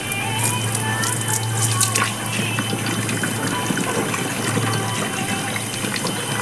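Water running steadily from a tap into a bucket at home, a continuous close splashing and gurgling fill that stays even for several seconds with no voices.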